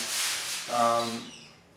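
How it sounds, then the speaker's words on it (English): A seaweed stripping disc grinds paint off the body panel of a Ford TF Cortina with a harsh hissing rasp, rising briefly to a tonal whine before tailing off. "removing all the paint with the seaweed disc"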